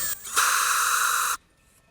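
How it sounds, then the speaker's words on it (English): A power drill whines steadily for about a second as it bores a hole for a 3/16 rivet, close and bright, then cuts off abruptly. "Drill your first hole."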